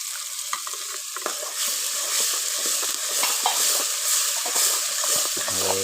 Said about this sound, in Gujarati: જરાક હલાવી નાખવાનો પેલા મસાલાને